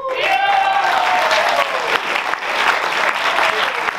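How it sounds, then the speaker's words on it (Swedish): Audience applause at a 65th anniversary jubilee concert, broad, sustained clapping from a sizable crowd, with a sliding musical tone and a few voices mixed in at the start before the clapping carries on alone. "Så en stor applåd till alla de grupperna."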